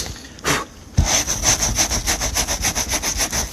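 A plastic car bumper is sanded by hand with coarse 80-grit paper, giving a brief scrape, a pause, then a fast, even run of rhythmic rasping strokes close to the listener.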